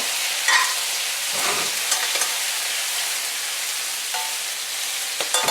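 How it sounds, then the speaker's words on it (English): Bok choy and tomato stir fry sizzles steadily in a hot pan, a dense crackling hiss with a few soft scrapes of stirring, close and continuous with no talking. "now to add this. Bok choy tomato stir fry"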